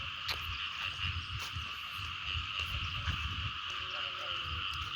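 Striped frogs croak in a dense, steady chorus in wet fields just after fresh rain, with pulsing calls layered over a continuous high trilling drone and a few faint voices underneath.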